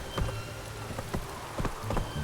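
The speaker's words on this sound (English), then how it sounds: "It is raining. It is indeed raining." Rain falling in The Witcher 3 game world, a steady wash of rainfall with scattered soft drop taps and low thuds throughout, with no talk.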